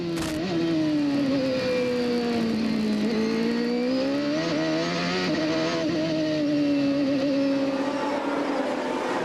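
CART race cars roar at the 1995 Miami round, heard from onboard Robbie Gordon's car as a loud, steady engine drone with rising and falling pitch while other cars rush past, with no talk.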